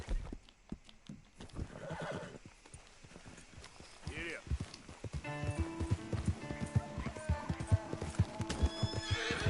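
A horse whinnies loudly and its hooves clop nearby, with people talking and other noises mixed in throughout.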